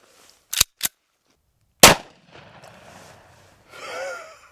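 A rifle firing a 300 grain Hornady load at body armor gives two quick sharp cracks, then a louder single blast about a second later, close up, followed by faint rustling and a breathy exhale.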